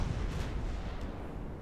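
A battleship's full broadside in the naval warfare game Ultimate Admiral Dreadnoughts, a deep, rumbling, continuous roar of heavy guns firing together, loud and without speech.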